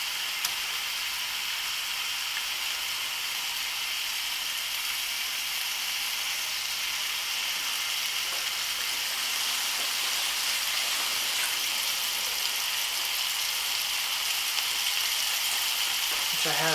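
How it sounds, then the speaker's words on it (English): Chicken sizzles in a hot pan, a steady hissing crackle running continuously and evenly throughout, close and moderately loud. "if you go like this, and it's sizzling, now's the time to throw in your chicken"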